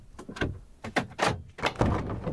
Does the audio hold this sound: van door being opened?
yes